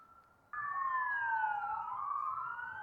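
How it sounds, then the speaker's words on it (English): A wailing siren sweeps up and down in pitch, starting abruptly and sustaining steadily at moderate distance. "I hear sirens."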